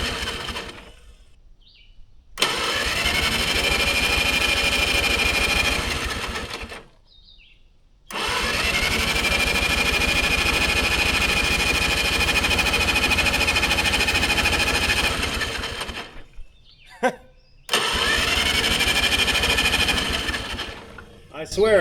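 A 1950s Caterpillar engine cranks and runs hot in three loud, close bursts, each a steady droning roar with a rising whine that cuts off abruptly into brief silences.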